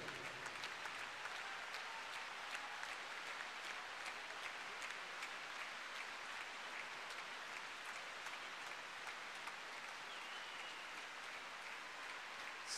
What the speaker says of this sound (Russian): Это ваши аплодисменты.